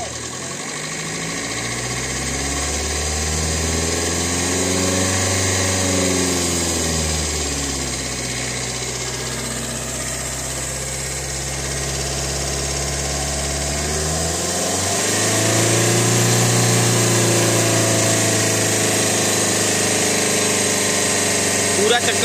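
A Maruti Dzire car engine runs with a jacked-up front wheel spinning, giving a steady drone that swells and eases as the wheel speed changes and stays loud and close throughout.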